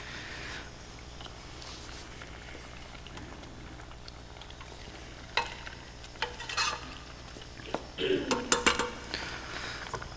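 Coconut oil melting in a pan, a soft sizzle and stir with a few scrapes of a utensil against the pan near the end, set in a quiet kitchen.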